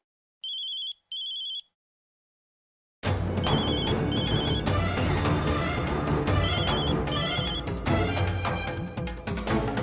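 Two short electronic beeps, a pause, then a loud, busy ringtone melody plays continuously and close up.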